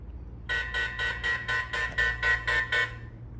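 A wireless outdoor security camera sounds its alarm as ten rapid, evenly spaced buzzing beeps in one quick burst, loud and harsh, over a low steady background hum.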